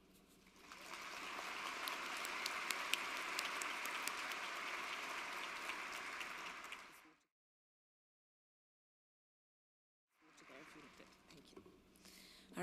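Audience applause fills a conference hall at a marine mammal science plenary as a speaker is welcomed, loud sustained clapping for several seconds, then silence, then faint room sound returning.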